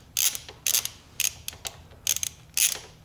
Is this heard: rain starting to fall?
no